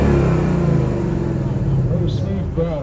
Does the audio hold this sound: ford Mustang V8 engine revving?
yes